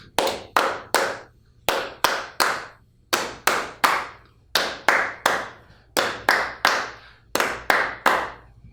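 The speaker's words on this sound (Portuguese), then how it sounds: "agora nós vamos fazer ao som das palmas" Rhythmic hand clapping for a children's song in a fifth-grade physical education lesson, loud close claps in repeating groups of three with short pauses between groups, no voices.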